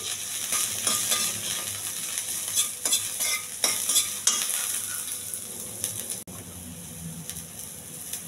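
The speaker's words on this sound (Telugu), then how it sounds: "కొంచెం ఆయిల్, కొద్దిగా జీలకర్ర, కొన్ని వెల్లుల్లిపాయలు బాగా ఎగెత్తాలి." Garlic and cumin seeds sizzle in hot oil in a pan, a steady frying hiss broken by repeated scraping and stirring clatters of a utensil.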